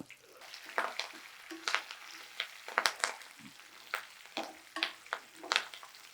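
Dried red chilies and curry leaves sputter in hot oil for a Telugu mixed vegetable pickle tempering, with repeated sharp crackling bursts over a steady low sizzle, close and moderately loud.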